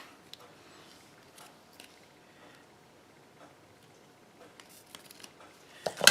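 Scissors snipping the end off a paper greeting card, a few quiet clicks and rustles building to a sharper cluster of cuts at the very end.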